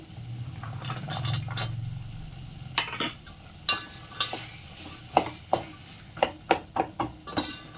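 Broad bean seeds are stirred in a cooking pot for a simple kitchen dish, first a soft sizzling rustle and then a run of sharp spoon clinks against the metal, close by with no talking.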